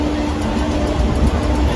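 A train at Cuttack railway station gives a brief, steady, low rumble that fills the whole moment at close range.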